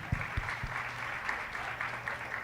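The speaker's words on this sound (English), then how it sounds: "Please give her a round of applause for that." Audience clapping at a regional business fair, a steady, moderate wash of applause lasting the whole stretch, with a few low thumps cutting through near the start.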